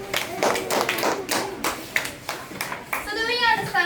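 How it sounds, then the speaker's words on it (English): Children clapping in a classroom during a lesson, a series of sharp, irregular hand claps fairly close by, mixed with young voices talking over and between them. "Give yourself a clap"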